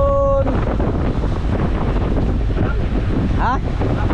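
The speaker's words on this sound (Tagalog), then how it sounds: "Malalaki ang alon." Large sea waves and strong wind buffet a small boat on rough water heading to an island, with steady loud wind rumble and surging water throughout, a brief voice-like tone near the end.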